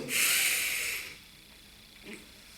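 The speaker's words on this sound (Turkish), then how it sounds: "bir rahat nefes alın ve derin bir nefes alın" A long, breathy inhale or exhale hisses close up for about a second, then fades, with a faint second breath shortly after.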